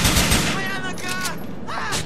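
Rapid gunfire in the video game GTA IV: The Ballad of Gay Tony, a dense burst of repeated shots running steadily through the moment, loud and close with a voice shouting underneath.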